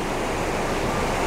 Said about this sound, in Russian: прям вот едешь, и течет река